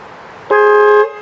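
Horn of a Honda CB500X motorcycle, a single loud, bright honk lasting about half a second, clear and close with no talk over it.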